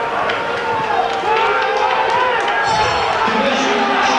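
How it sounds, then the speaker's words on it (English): A partisan crowd at a 2008 Warrington versus Castleford rugby league match roars and boos loudly from the stands below, a sustained dense wash of voices that swells after the first second and holds steady throughout. "the boos are ringing from the partisan crowd underneath us here"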